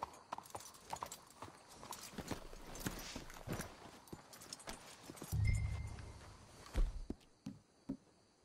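Horse hooves clip-clop in a steady walking rhythm in the video game Red Dead Redemption 2, with occasional heavier thumps and faint background ambience.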